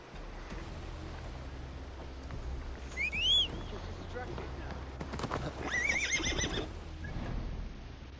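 A horse whinnies twice with rising, ringing calls amid the steady clip-clop of hooves in the video game Assassin's Creed Valhalla, heard at moderate loudness over a low rumbling background.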